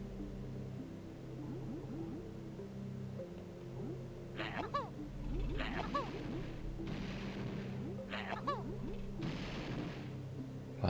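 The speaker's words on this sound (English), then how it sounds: "in order to do that, we actually need to shoot it with grenades" Grenades are fired repeatedly at a large fish in the Barley-Tooie video game, producing a run of booming blasts and bursts over a steady droning game score, with no talking.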